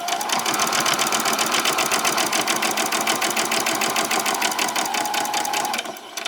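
Close and loud, a sewing machine does back stitches and then forward stitching on a pyjama top, a continuous rapid needle clatter for about six seconds that eases off at the very end.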